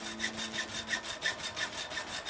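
Wood being sawn by hand in the survival video game The Long Dark, a quiet, even rhythm of about ten rasping back-and-forth strokes, heard alone without talk.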